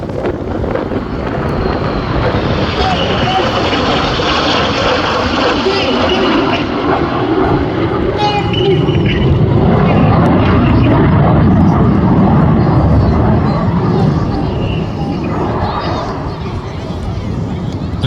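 Red Arrows jets in a flying display at the Midlands Air Festival, a broad continuous roar of jet engines that swells toward the middle and stays loud throughout, mixed with wind buffeting on the microphone.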